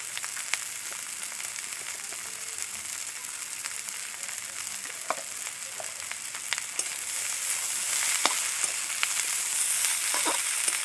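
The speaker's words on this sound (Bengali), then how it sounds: "এবার এর মধ্যে আমি ঘি দিয়ে দেবো 1 চামচ মতো।" About a spoonful of ghee sizzles and crackles steadily in a pan of Gobindobhog rice ghugni, with the frying growing louder and busier in the final seconds.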